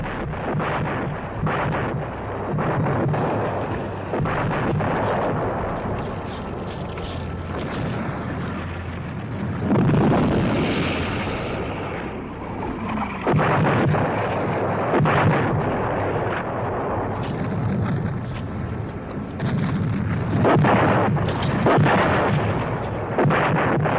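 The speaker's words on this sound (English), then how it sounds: "the cruiser HMS Orion, Ajax, Argonaut, Emerald and the Dutch gunboat Flores and 13 destroyers open fire on the German positions" A D-Day naval bombardment of German positions at Gold Beach by cruisers, a gunboat and destroyers: continuous heavy booms and rumbling blasts, loud and sustained, overlapping with no pause.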